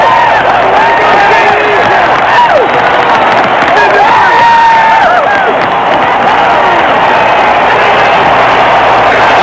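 Jubilant Cleveland crowd at the 1981 baseball All-Star Game at Cleveland Municipal Stadium roaring and cheering, a loud, sustained wall of voices with whoops and applause throughout, no pauses.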